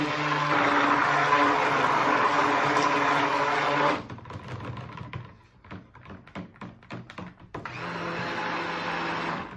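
A blender whirs loudly and steadily while mixing pink soap batter, then cuts out for a few seconds of knocks and clatter before the motor starts up again.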